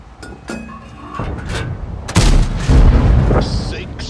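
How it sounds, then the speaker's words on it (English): Tank cannon shots in World of Tanks, heard as heavy booming blasts that build into loud, rumbling explosions close at hand, with mechanical clanks and a voice heard briefly. "Six shots."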